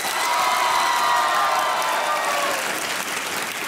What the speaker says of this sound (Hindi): तो जोर से ताली बजाइए।